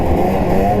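Two-stroke snowmobile engine revving inside a garage, a loud, close, steady mechanical drone with a rough buzzing texture, held briefly and alone.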